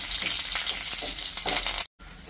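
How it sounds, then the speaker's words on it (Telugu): Two sprigs of curry leaves hiss and crackle loudly in hot tempering oil on a low flame for a tomato pachadi, a dense, steady sizzle that breaks off in a brief gap near the end and then resumes. "ఇప్పుడు కొంచెం సిమ్లో పెట్టుకొని ఇలా వేపుకుంటే ఇందులో కరివేపాకు అండి, ఒక 2 రెమ్మలు కరివేపాకు వేస్తాను"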